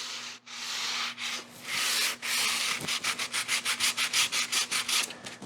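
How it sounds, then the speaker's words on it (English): Sanding the front of a handmade wooden cremation urn: steady abrasive rubbing at first, then a run of quick, even back-and-forth strokes, close and fairly loud with no talking. "Carefully sand the front a little."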